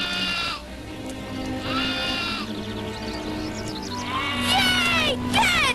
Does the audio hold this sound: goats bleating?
yes